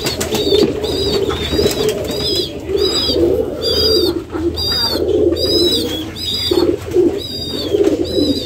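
Pigeons in a pigeon house coo in repeated soft rolling calls close by, with a few higher chirps among them and no talking.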